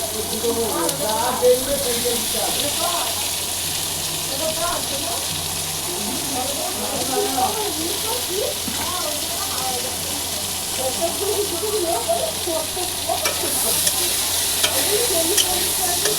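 Onions frying in oil for a home-cooked meat curry, a steady broadband sizzle with stirring scrapes throughout, fairly close and even in level, with occasional faint hum beneath.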